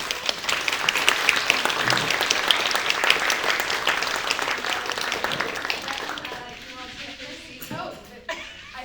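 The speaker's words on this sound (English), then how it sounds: "Let's give everyone a round of applause." Audience at a New Jersey folk podcast launch event gives a sustained round of applause, dense clapping that fills the room before thinning out and fading near the end, with a few scattered claps.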